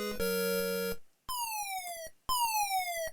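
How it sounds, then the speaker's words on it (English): A countdown effect from the Amstrad CPC racing game Buggy Boy: a buzzy electronic tone, then two falling chiptune bleeps with a short gap between them, loud and alone. "Not sure about that countdown sound effect"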